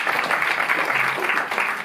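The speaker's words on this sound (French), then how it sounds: "vous pouvez l'applaudir" A cinema audience claps together, a dense, even patter of many hands that holds at a steady level for a couple of seconds before easing slightly at the end.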